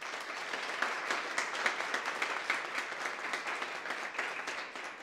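An audience at a sports talk show applauds skier André Schöpf, a steady, moderately soft patter of many hands clapping throughout, with no talk over it.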